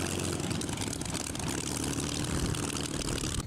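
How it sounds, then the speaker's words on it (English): A Spitfire fighter plane's propeller engine roars steadily, a dense continuous drone with rough low rumble, loud and close throughout with no voices. "This plane is called a Spitfire, and this is why."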